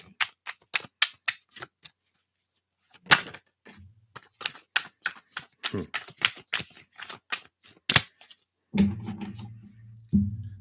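Tarot cards shuffled by hand in a steady run of crisp, close riffling snaps, pausing briefly before a few sharper slaps, then a low soft rumble of handling near the end.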